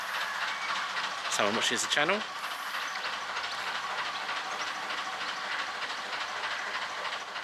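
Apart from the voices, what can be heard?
train engines passing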